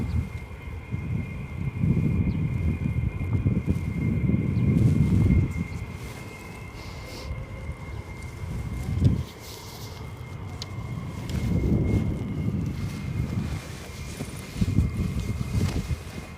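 Military jet aircraft at RAF Lakenheath, including F-15 Strike Eagle, F-35 Lightning II and C-17, make a distant roaring engine rumble that swells, fades and builds again under steady wind noise.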